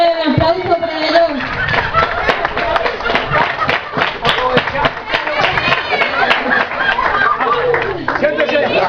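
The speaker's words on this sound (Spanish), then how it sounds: "Muy bien, aplauso para ellos." Audience applause at the 2013 Corpus festival in San Baltazar: dense, steady clapping runs through the whole stretch, mixed with crowd chatter and voices.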